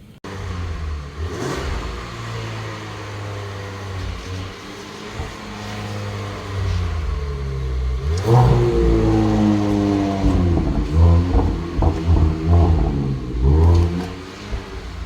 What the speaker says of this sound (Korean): 이게 현재 지금 순정 상태입니다. 그러니까 그 가변이 닫혀 있는 거죠.